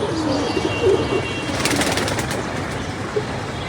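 Pigeons coo softly in a loft during a racing-pigeon tournament as a female bird returns, several low repeated coos over faint background noise.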